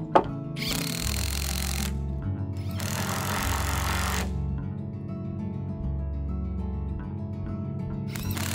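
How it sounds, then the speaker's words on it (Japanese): Impact wrench driving nuts down onto washers on foundation anchor bolts during house sill-plate installation, three loud sustained bursts of rattling hammering over a steady low hum, separated by short pauses. "座金の締め付けはインパクトレンチで締め付けます"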